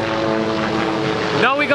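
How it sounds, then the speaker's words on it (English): A helicopter drones steadily, a tonal buzzing rotor hum, with a voice briefly speaking near the end. "that's a helicopter."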